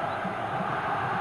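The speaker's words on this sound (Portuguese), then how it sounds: "A torcida do Vasco não para" Vasco fans cheer in a packed stadium during a 2000 Brasileirão semifinal against Cruzeiro, a dense, continuous crowd roar with chanting voices blended into an even wash of noise.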